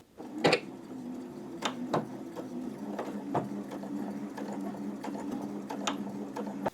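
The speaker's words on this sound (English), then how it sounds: "I'm going to go ahead and just sew that on the sewing machine" A sewing machine whirs steadily up close while stitching dress straps, its hum broken by a few sharp clicks and knocks.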